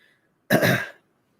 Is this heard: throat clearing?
yes